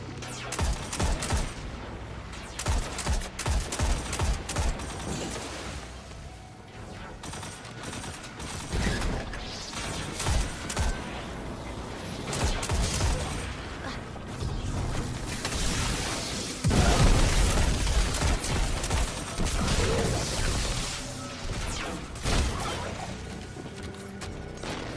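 Laser cannon blasting away in Destiny 2, a dense run of rapid, loud mechanical bursts and crackling shots that keeps going for the whole stretch with barely a pause.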